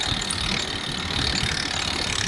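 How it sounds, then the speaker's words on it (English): A sailboat winch ratchets while a sail is hoisted, a rapid continuous clicking pawl close by, steady over the short stretch with no talk. "I'm going to transfer to the smaller winch because there's more torque, and I can just get a bit more tension."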